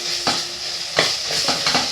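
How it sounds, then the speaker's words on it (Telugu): Ginger garlic paste fries in a pan for an old-style taro root curry, a steady close sizzle broken by a few scraping stirs of a spoon against the pan. "ఇందులో కొంచెం అల్లం వెల్లుల్లి పేస్ట్ కూడా వేస్తానండి"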